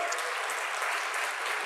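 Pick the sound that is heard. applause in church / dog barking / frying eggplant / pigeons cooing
applause in church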